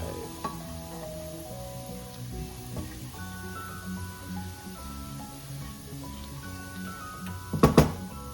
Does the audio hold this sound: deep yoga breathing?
no